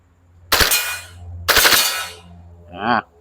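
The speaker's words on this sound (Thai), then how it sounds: "เวลายิงก็ยิงเป็นชุดนะครับ ชุดละ3ชุดละ4นัดก็พอ" A WE Glock 35 Gen4 gas airsoft pistol fires two sharp, loud bursts of rapid shots close by, each a quick string of cracks, followed by a brief voice.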